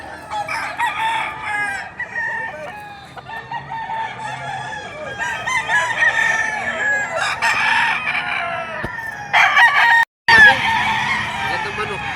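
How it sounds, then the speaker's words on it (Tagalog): Several roosters crow in a dense, overlapping chorus at a poultry sale, with clucking fowl nearby and occasional talk mixed in throughout. "Gandang manok."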